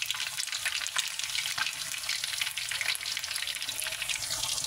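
Chicken sizzles and spatters steadily in a hot frying pan, a dense, continuous crackling hiss that stays close and even throughout, with no voices.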